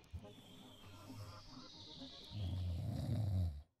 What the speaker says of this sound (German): Du bist ja nicht sicher, ob man Geräusche noch schnarchen nennen kann oder ob schon eher ein Sägewerk ist